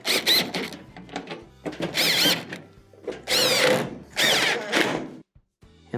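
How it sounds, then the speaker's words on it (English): A power driver runs in several short whirring bursts, each starting and stopping, as quarter-inch screws go back in around the perimeter of a GE dryer console; close and fairly loud. "Reinstall the 1/4-inch screws around the perimeter."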